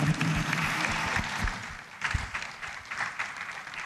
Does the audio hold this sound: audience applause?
yes